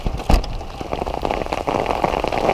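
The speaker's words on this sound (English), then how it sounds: "Oh my God, the rain's coming again." Rain pours down hard during a stormy mountain-bike outing, a steady dense hiss of drops hitting surfaces, loud and close throughout with a few heavier splatters.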